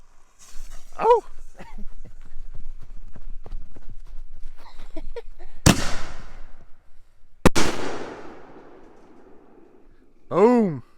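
An X-Cal firework shell goes up and bursts as two sharp, loud booms a couple of seconds apart, each trailing off in a crackling echo. Excited voices and shouting come before and after the blasts.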